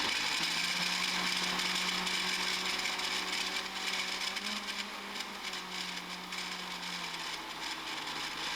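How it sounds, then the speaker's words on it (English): An electric blender whirs steadily while blending chamoy sauce with added salt and sugar, a continuous close motor hum with a slight shift in pitch partway through. "I'm going to give this one more quick blend"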